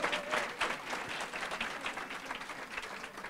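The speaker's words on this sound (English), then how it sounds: "could we have another big round of applause for our food pantry?" A crowd applauding steadily, dense clapping that stays loud for the whole stretch with no talk over it.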